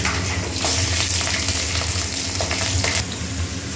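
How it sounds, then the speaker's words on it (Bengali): Chopped green chilies sizzle steadily in hot tempering oil with bay leaf, a dense, close frying hiss with a few faint stirring clicks, no voices. "কাঁচা লঙ্কা কুচিয়ে নিয়ে এসছে মা, আমি ভেজে দিচ্ছি"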